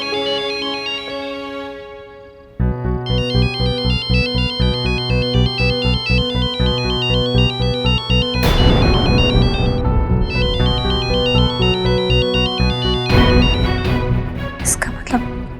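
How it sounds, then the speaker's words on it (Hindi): Mobile phone ringtone plays a loud, repeating electronic melody for several seconds, changing pattern partway through, with soft dramatic background music in an indoor scene. "तुम्हारा फोन बज रहा है?"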